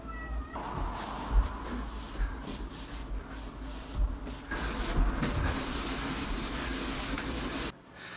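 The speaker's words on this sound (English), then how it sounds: "There's a cat." A cat meows on a quiet neighborhood street in Vancouver, a few short calls rising over steady background noise and music, fairly close and moderately loud, with no talking.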